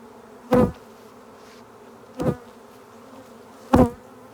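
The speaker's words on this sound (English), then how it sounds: "I'll shake these little bees off in here and put the top on them." Honey bees from a new swarm being shaken into a hive box with drawn comb, heard as three short loud buzzing bursts spaced evenly apart over a quiet low hum.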